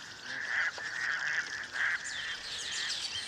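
Raucous toads call in a loud, droning chorus by day, with repeated buzzing trills and bird chatter mixed in above, close and continuous.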